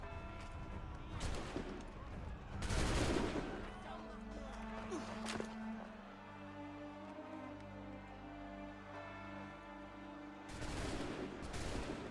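A musket volley fired in Assassin's Creed 3, heard as a few loud bursts of crackling gunfire spaced over several seconds, with lingering low rumble and a sharp ring between them, in a cinematic scene.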